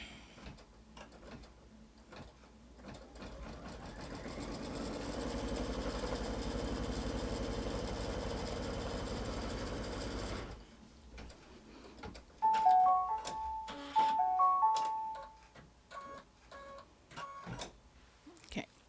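An embroidery machine stitches a quilt block in the hoop with a long, even mechanical hum for about ten seconds, then stops; afterward come beeps and clicks from the machine's controls.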